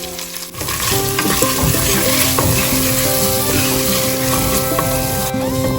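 Ginger frying in a pan for a dal dish, a loud, steady sizzle with occasional stirring scrapes and light clinks of a utensil against the pan.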